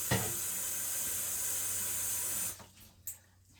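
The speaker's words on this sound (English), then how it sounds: "Now I rinse my finger out." Tap water runs steadily with a broad hiss while a finger is rinsed under it, then shuts off abruptly, leaving a couple of faint splashes and drips.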